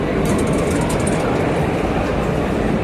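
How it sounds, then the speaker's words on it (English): Delhi metro train at Supreme Court station, a steady loud rumble of rolling carriages with a hissing high-end wash and faint screechy wheel tones, continuous throughout with no speech. "We are at Supreme Court metro station,"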